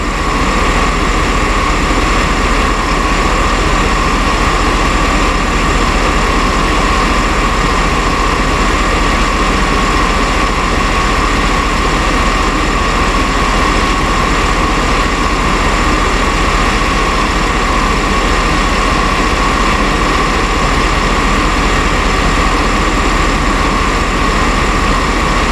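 Steady, loud idle of a 2010 Chevy Suburban engine during A/C line work, a constant unbroken drone with even hum throughout and no voices.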